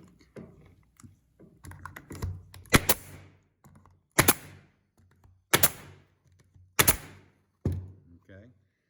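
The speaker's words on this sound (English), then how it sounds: "that's going to shoot and hold that paneling in place" Trim nailer-style staple gun firing staples into wall paneling, four sharp loud snapping shots spaced about a second and a half apart, with softer handling knocks and thuds between them.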